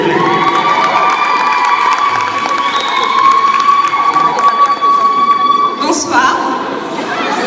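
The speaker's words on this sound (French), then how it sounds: "Est-ce qu'on peut applaudir, s'il vous plaît?" A crowd at a wedding fair cheers and shouts loudly for a brand being presented, with high excited voices in a continuous roar and some clapping mixed in.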